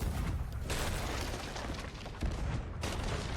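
Pirate ship cannons firing in a video game, heavy booming blasts over a continuous low rumble, with a sharp new burst near the end.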